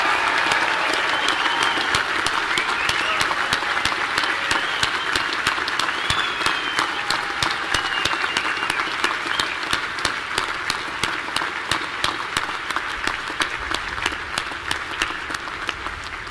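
A large audience at the U.S. Naval War College 2023 commencement applauds the graduating class, a dense, sustained roar of many hands clapping that continues steadily for over fifteen seconds in a big hall.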